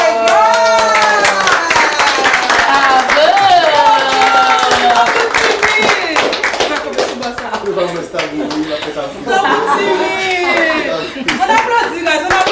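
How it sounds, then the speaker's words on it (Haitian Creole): An audience on a Haitian reality show claps rhythmically while people talk and exclaim loudly over the clapping. "On applaudit, guys, on applaudit."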